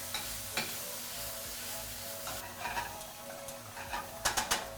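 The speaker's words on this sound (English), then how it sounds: "Take my pasta, transfer into the pan, mix all that together." A pan of pasta and pesto sauce is tossed and mixed, giving soft scraping and a few louder clatters over a quiet sizzling bed near the end.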